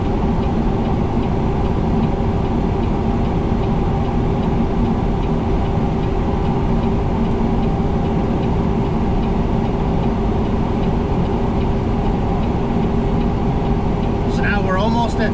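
A bus rolls downhill at about 22 mph with its exhaust brake engaged at level 2 and the engine near 1700 RPM, making a loud, constant roaring drone throughout.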